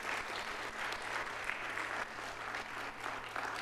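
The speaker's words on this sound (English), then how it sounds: "Round of applause to those." Conference attendees applauding at a closing session, a steady, moderately distant wash of clapping from a sizeable crowd that holds evenly for the whole stretch.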